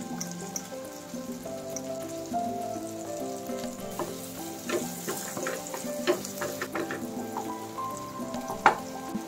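Tomatoes and black pepper sauté in oil for adobong kangkong, a steady close crackling sizzle with scattered pops and light stirring clicks throughout, no voices.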